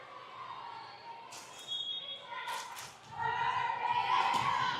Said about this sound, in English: you can hear the girls cheering on from the sideline